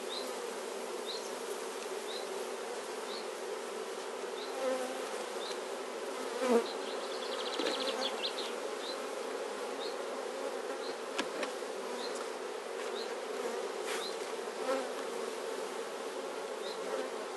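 Honeybees buzz around an opened beehive frame during queen cell rearing, a dense steady hum with individual bees whirring past close by.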